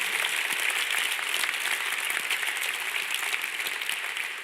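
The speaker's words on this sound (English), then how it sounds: "So a round of applause for the organizers." Steady, dense applause from an event audience thanking the organizers of a body politics gathering, loud and even throughout with no pauses, a full crowd clapping together.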